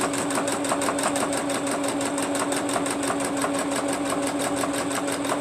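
A sewing machine stitches at a steady, fast mechanical rhythm close by, its needle clicking in a regular repeated pattern with no talk.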